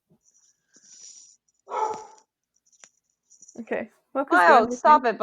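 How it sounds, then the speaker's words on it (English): A dog yips and whimpers briefly amid quiet jingling, followed by people talking nearby. "Now your dog's barking."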